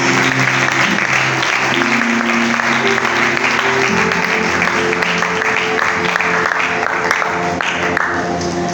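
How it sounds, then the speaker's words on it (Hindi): A church congregation claps loudly and continuously for God, the sustained applause layered over steady music tones from start to finish. "आए अपने जिंदा खुदा के लिए जोरदार तालियां करें"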